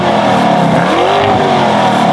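Lamborghini Urus super SUV engine revving loudly up close, a steady dense roar with the pitch rising and falling slightly across about two seconds, no voice over it.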